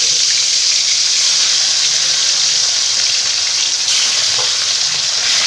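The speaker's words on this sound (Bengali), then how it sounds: "ভাজার জন্য কড়াইতে সর্ষের তেল দিয়ে দিয়েছি তেল গরম হয়ে গেছে এবার মাছগুলো আমি ভেজে নিচ্ছি আস্তে আস্তে" Bata fish pieces fry in hot mustard oil in a wok, making a loud, continuous close sizzle with a dense crackling hiss that barely changes throughout.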